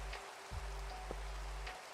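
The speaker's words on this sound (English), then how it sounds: "I always forget how, like, really obnoxious rain is" Steady rain falls in a video game, a constant hiss of patter with a few soft thuds and clicks from gameplay mixed in, and no one speaking.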